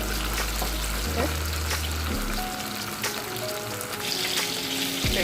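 Shrimp and chicken fry in a hot pan, giving a loud, continuous sizzle close up, with occasional clinks and scrapes of stirring throughout and no voices.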